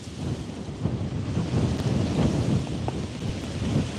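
Strong outdoor wind roaring steadily, buffeting the microphone with a dense low rumble that persists without a break and with no voices.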